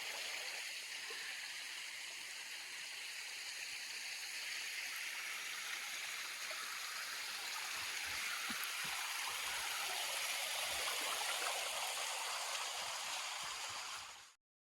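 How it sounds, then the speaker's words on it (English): The Toxaway River flows close by in a steady, bright rushing wash of water that holds even and continuous before cutting off abruptly at the end. "We're walking along the bank of the Toxaway River."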